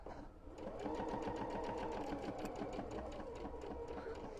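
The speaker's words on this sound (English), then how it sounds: "we're just going to sew that and take those pins out" A sewing machine runs steadily, stitching through pinned fabric in a fast, even mechanical chatter that holds for several seconds at close range.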